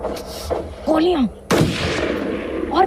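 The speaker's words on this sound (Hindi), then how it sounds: "गोलियां" Gunfire from a Pakistani short film plays in two loud, close bursts with sharp onsets and ringing tails, while a voice murmurs faintly between the shots.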